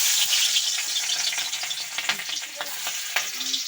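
Beans and mixed vegetables go one by one into hot white oil in a home kitchen, a steady loud sizzle with crackles and pops and the scrape of stirring, no voices.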